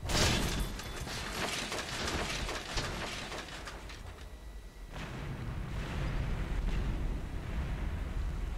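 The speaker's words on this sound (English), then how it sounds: "that was a hell of an explosion" A large explosion in the Mad Max video game booms out loudly at the start, followed by a long rumbling, crackling roar of debris and fire that fades in waves over several seconds.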